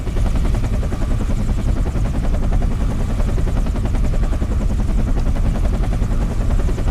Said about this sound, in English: let's run up our two General Electric T700 GE 701C turbo shafts